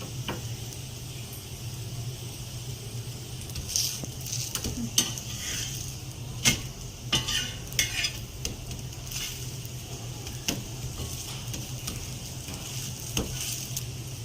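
A flipped dosa frying in coconut oil on a hot pan, with steady close sizzling throughout and scattered scraping clicks of a spatula, no voices.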